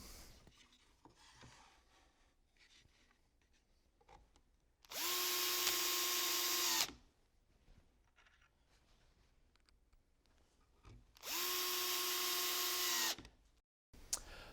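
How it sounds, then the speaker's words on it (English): A power drill boring holes in workbench parts, two loud steady whirring bursts of about two seconds each, separated by quiet shop handling noises. "finish drilling my holes"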